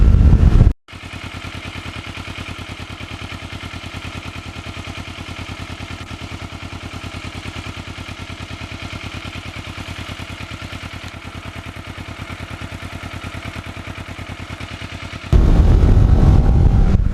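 A restored motorcycle engine runs steadily at a constant pitch for most of the stretch, loud and close, with a harder, louder burst near the end.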